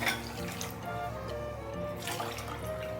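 Water poured from a cup into sugar in a pot for gulab jamun syrup, a steady close splashing trickle that runs for about three seconds with no talk.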